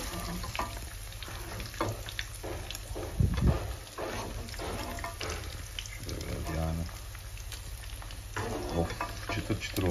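Anchovies fry and sizzle in a pan while being stirred, a steady crackling hiss with scraping and clatter, close, with someone talking intermittently over it.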